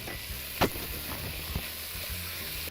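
Beef frying in sesame oil with sliced onion gives a steady, close sizzle that runs the whole time, broken by a few brief stirring knocks.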